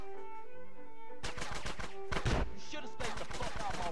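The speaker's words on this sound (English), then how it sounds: "I'll be using the shotgun today." Shotgun and other gunfire in GTA San Andreas, a quiet lead-in giving way to loud rapid bursts of shots and impacts, one heavy blast standing out, with no talk.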